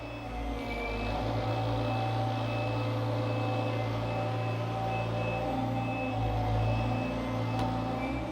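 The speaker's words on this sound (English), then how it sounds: "I'm gonna go up with my riser" A SkyJack SJ63AJ scissor lift raises its platform with the riser, giving a loud, steady motor and hydraulic drone with a constant hum and a faint high tone, alone without talking.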